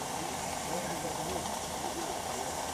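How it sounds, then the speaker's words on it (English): Steam hissing into the engine of an 1898 Umpire steam launch as the throttle is cracked open to warm it up, heard as a steady, close, broadband hiss filling the whole moment without change. "you slowly crack the main steam, the throttle, to let steam into the engine."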